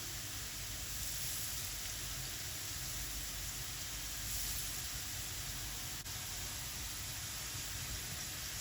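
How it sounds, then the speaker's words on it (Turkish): Potato pieces frying in a pan for a sausage-and-egg dish give off a steady, low, even sizzle, a soft continuous hiss with no voices over it. "Kızardı yarısı biraz daha şöyle kızarsın."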